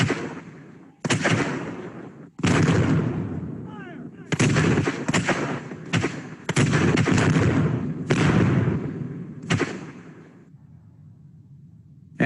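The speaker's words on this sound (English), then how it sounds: "the Confederates fired their cannons at the fort" Several heavy Civil War cannon blasts boom one after another at irregular intervals, as at Fort Sumter, each a sharp loud crack followed by a rumbling decay.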